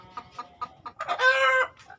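A brown hen, a superior-breed brood hen, gives several short, close clucks, then a longer, louder squawking call.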